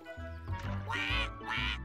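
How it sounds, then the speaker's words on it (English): A mother duck quacks loudly and close by in two harsh bursts, defending her nest near water from a swimming dog. "The mother duck's trying to scare Timber away"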